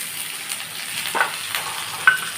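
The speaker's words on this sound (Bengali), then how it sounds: "সমস্ত ভেজিটেবলস দিয়ে কাজু কিশমিশ দিয়ে অল্প করে ভাজা" Chopped vegetables, cashews and raisins fry lightly in a pan for a vegetarian soybean rice, giving a steady low sizzle with a couple of brief stirring clinks and scrapes, close and fairly quiet, with no voices.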